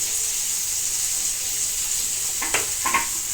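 Fish frying in a pan for a Telangana-style fish fry, a soft steady sizzle with a couple of brief stirring or scraping clicks near the end.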